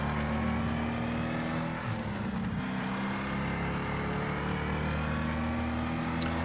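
Race car in Wreckfest with a damaged front right wheel, engine droning at high revs in a continuous loud roar down a back straight, with a steady pitch and no talk over it.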